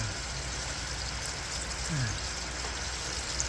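Diesel-diluted engine oil from a Hyundai Staria drains out thin like water, a steady close trickling wash under broad noise with no talk.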